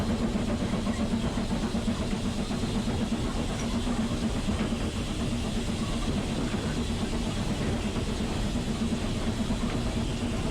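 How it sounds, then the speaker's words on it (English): Steam locomotive 44871 working hard uphill with a train on the Swanage Railway, heard from the footplate as a steady, loud, continuous mechanical roar with a low hum running throughout. "So Steve opens the regulator again to get the train up the hill towards the platform"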